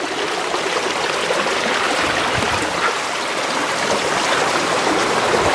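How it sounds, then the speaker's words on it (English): Creek water rushing through rapids on a hike, a loud, steady broadband roar and splash that continues without a break, with no voices. "Shooting the rapids now."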